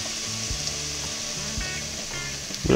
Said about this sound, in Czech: Hezky orestujeme.